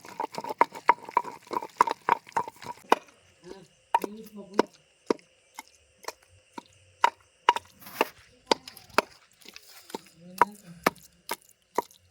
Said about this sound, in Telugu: ఉడకపెట్టిన టమాటీలు వేసుకొని అవి కలిపి నూరటం స్టార్ట్ చేస్తుంది